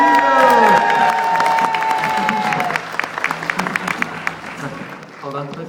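Applause and cheering rise from a crowd at a mission gathering in Toronto, loud at first and thinning into scattered claps, with voices and a sustained tone over the start.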